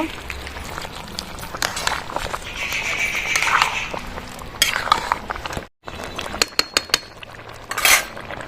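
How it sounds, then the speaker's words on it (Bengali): Gobindobhog rice being stirred in a cooking pot, with clinks and scrapes of a metal spoon against the pot in irregular bursts, close up, under intermittent talk. "এবার দিয়ে দেবো চালটা ভালো করে নাড়াচাড়া করে নেব"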